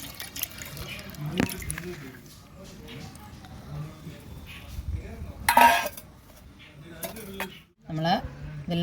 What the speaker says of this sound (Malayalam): അരിപ്പ് വെച്ച് അരിച്ചെടുക്കുകയാണ്